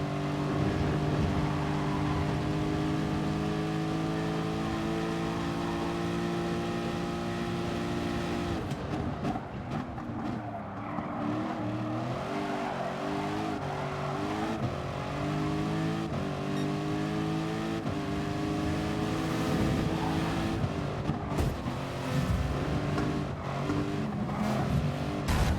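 A race car engine in Gran Turismo Sport roars and revs continuously, rising and falling through gear changes, loud and steady with no voices over it.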